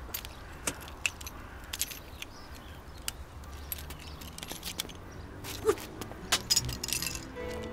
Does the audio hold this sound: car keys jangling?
yes